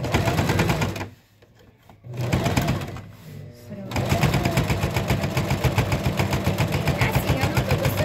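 A domestic sewing machine runs in fast, steady mechanical bursts, pausing briefly while someone speaks, then resuming its even rapid clatter.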